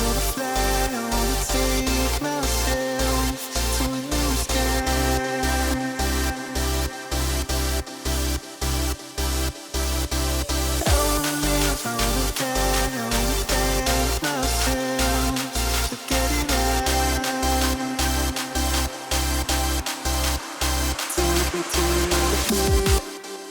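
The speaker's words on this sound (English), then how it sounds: "So these kind of synth stabs that are going on here are made up of 3 different layers." Bright, layered synth stabs in a dance remix pulse in a steady rhythm over a driving kick drum and dense electronic backing, loud and continuous with no talking.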